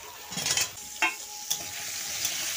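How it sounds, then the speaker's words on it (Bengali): Papaya and potato pieces sizzle and fry in a pan, with a steady crackle and a few sharp stirring scrapes close by. No one speaks. "পেঁপেটাও ভালো করে আলুর সঙ্গে কষে নেব।"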